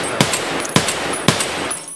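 Three sharp, loud gunshots ring out at even intervals of about half a second during an Escape from Tarkov PvP firefight, each followed by a short echoing tail over steady background noise.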